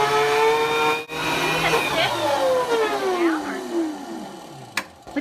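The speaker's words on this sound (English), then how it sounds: "he's gonna blow in the insulation here" An insulation blowing machine runs loudly while insulation is blown into a cottage attic, a continuous whining motor roar with shifting pitch, as people talk excitedly over it.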